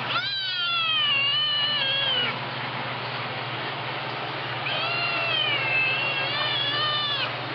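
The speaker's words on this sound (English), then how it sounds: "Oh, kitty. It's okay, Glitch." A cat meows in long, drawn-out wails, two separate calls with a pause between, close and fairly loud over a steady low hum.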